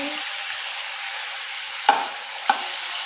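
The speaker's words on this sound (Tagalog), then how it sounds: "Lagay natin yung chicken. Halo-haloin natin" Chicken sizzles steadily in a hot pan while a utensil stirs it, two sharp scrapes standing out from the close, continuous frying hiss.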